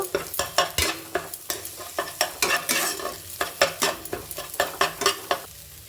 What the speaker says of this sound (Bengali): দেখুন আমি এবার ডিমটাকে ভেজে নেব